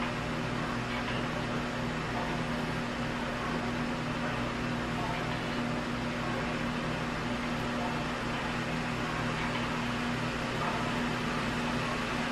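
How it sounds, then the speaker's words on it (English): Steady broadband whir of an overclocked AMD 6990 graphics card fan running on BIOS 2, a constant airy drone with a low hum, heard close and continuous throughout. "I was sitting right there, so you guys could hear the noise of the GPU running in the background"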